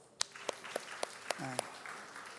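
Congregation members at a Sunday church service clap during announcements, giving a handful of distinct, evenly spaced claps over a soft murmur, with a brief voice partway through.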